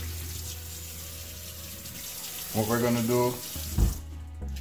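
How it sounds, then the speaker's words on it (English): Hot tap water runs steadily into a kitchen sink as a trout is rinsed, a continuous splashing hiss with brief louder gushes, while someone talks over it. "I'm gonna rinse it off with the hot water."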